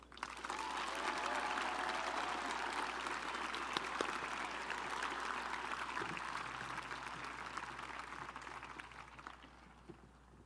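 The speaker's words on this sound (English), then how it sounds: "Please join me in another round of applause and recognition for Brandon." A sustained round of applause from a large audience at a Wilton High School class of 2021 graduation ceremony, steady and dense throughout, easing slightly toward the end.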